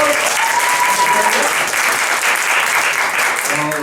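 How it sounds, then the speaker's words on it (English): Comedy club audience clapping steadily at the Dukes, a dense, loud round of applause that fills the whole moment, with a voice faintly audible over it near the start and end. "Round of applause."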